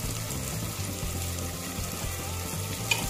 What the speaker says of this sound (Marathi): ठीक आहे, आपले कांदा आणि टोमॅटो परतून झाले। त्याच्यामध्ये थोडीशी हळद ॲड करायची।